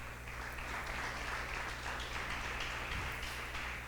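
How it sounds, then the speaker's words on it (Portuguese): A church congregation applauds, heard as a soft, steady, distant rush of many hands clapping over a low hum, fairly faint and unbroken throughout. "dê um aplauso ao Senhor Deus no seu lugar"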